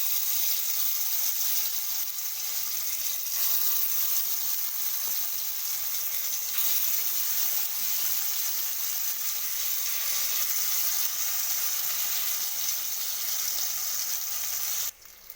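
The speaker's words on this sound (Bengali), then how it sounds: "এরপর আস্তে আস্তে করে আমি বড়াগুলো দিয়ে দেব।" Sesame fritters (tiler bora) fry in hot oil, giving an even, continuous close sizzle and hiss that holds steady throughout without any speech.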